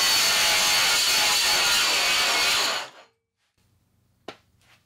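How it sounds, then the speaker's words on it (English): A cheap cordless angle grinder grinding rust off metal, a loud and steady high whine that spins down and stops about three seconds in, followed by near silence and one sharp click. "let's just try to grind off some of this rust and just see how"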